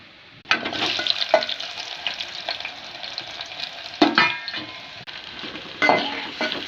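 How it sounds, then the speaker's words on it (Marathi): Onion, green chili and tomato sizzle and fry in a pan as a tadka for okra, with steady crackling broken by a few sharp stirring scrapes and clinks of a spoon against the pot. "आता भेंडीला तडका द्यावा। कांदा, मिरची, टमाटर चिरावा।"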